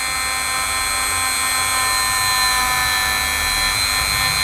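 Rotary tool spinning at low speed while cleaning a mecha model kit, a steady high whining drone with dense tonal hum that runs unbroken and fairly loud throughout, with no talking.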